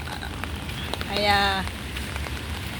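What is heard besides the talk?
rain while walking outdoors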